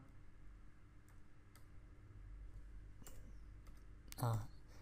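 A computer keyboard gives a few faint, scattered keystroke clicks in a quiet room, with a brief burst of voice near the end.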